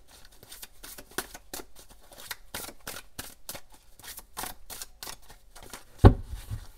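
Oracle plaquettes being shuffled and drawn by hand, a rapid series of close, crisp clicks and clacks, ending with a louder knock.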